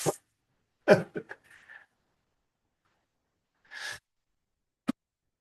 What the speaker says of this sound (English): why do I have to sneeze in the middle of a presentation